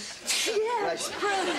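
A single sharp sneeze bursts out near the start, followed by a woman's speech in a close, quiet room, in a sitcom scene.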